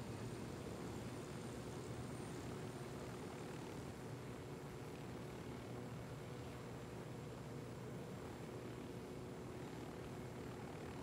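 A steady, faint whir of a helicopter's rotor and engine in the video game Ghost Recon Wildlands drones on continuously with no talking, like a constant background hum.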